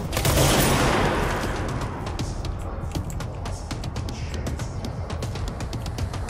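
Dense gunfire and a heavy blast in the video game Control, a loud opening burst followed by rapid, continuous rattling shots at close range for several seconds.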